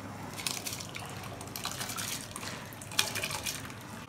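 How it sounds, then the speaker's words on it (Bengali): Washed rice tipped into a pot of hot water spiced with cloves and peppercorns, for a restaurant-style mutton biryani: a steady watery splashing and trickling, fairly close and moderately loud, with a sharper splash near the end and no voices. "চালটা দিয়ে দেবো।"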